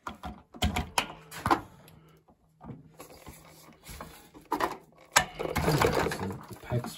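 A PEX fitting is crimped onto a water heater pipe, with bursts of close mechanical clicking and ratcheting from the tool separated by short pauses, punctuated by handling knocks.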